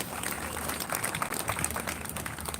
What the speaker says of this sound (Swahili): Bishop makofi mega tafadhali.